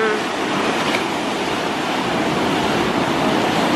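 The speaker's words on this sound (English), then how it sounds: "You ever see waves like this before?" Ocean surf rolls in at Nantasket Beach, a steady, loud broadband roar of breaking waves that fills the whole stretch without pause.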